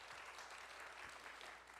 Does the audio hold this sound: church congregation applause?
yes